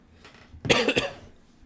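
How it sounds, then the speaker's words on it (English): A single harsh COVID cough bursts out near the middle, close and fairly loud, after quiet breathing, then fades. "this COVID cough is not leaving me"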